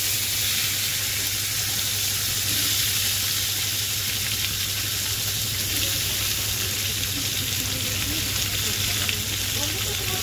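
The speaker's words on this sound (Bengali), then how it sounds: "দুটো তেজপাতা, কেটে রাখা মূলো আর আলু এখন এই তেলের মধ্যে দিয়ে দেব।" Cut radish and potato with two bay leaves frying in hot oil, a loud, continuous close sizzle and hiss with occasional stirring and no voices.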